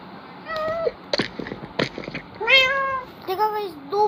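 Several cartoonish cat meows from two cats in a Minecraft-style game in quick succession, some drawn out, with brief clicks and short noises between them, close and clear.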